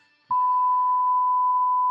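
A loud, steady, pure-tone censorship bleep cuts in sharply after a brief quiet moment and holds continuously, covering swearing.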